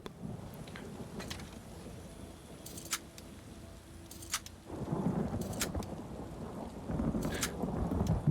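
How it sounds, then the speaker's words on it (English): Thunder in the video game Elder Scrolls Online rolls low and soft under a steady rain-like hiss, with sharp scattered crackles and louder rumbles swelling in the later part. "Sounds like there's thunder."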